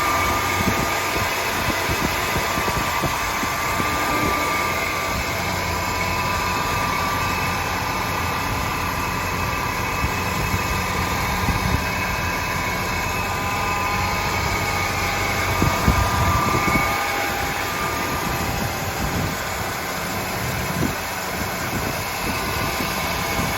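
Engine of a 1981 Jeep Scrambler running during a ride, a steady low drone with road and wind rumble from inside the vehicle, no talking.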